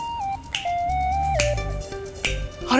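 A single crisp finger snap in a Hindi TV drama scene, sounding close and clear over soft background music, with further snap-like clicks that follow.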